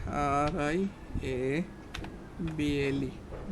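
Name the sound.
typing on a computer keyboard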